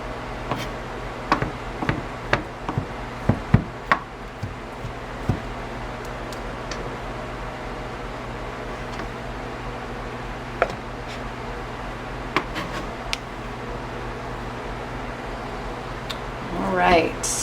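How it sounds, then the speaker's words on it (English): A rotisserie chicken is chopped on a cutting board, giving scattered light knocks and taps at irregular intervals that are fairly close but soft, with a steady background hum. "that's how I chop a rotisserie chicken"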